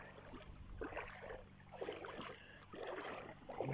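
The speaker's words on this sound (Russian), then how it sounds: "Сейчас скину лодку" A small boat slides into the Volga River in September, making faint, rhythmic sloshing and splashing of water against the hull in a few soft surges, with light wind in the background and no talking.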